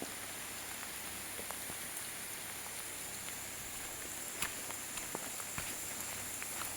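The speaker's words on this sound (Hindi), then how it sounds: "बारिश होती जा रही है" Rain falling in a mountain village, a faint even hiss of steady drizzle with scattered soft drips and occasional small taps, quiet and continuous with no voices.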